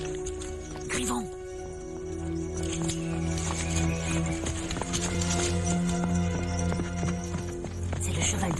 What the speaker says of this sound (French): C'est le cheval de Coréon